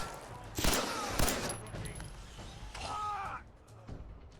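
Gunfire rings out in a Fallout 4 shootout at the Corvega plant, with enemies firing .38 rounds. Several sharp shots crack at a distance, moderately faint over steady game background.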